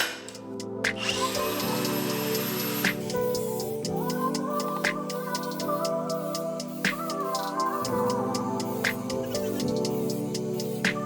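A power tool grinds a JZX drift steering knuckle with a continuous close whine that shifts pitch as the load changes, over scattered clicks and scraping contacts.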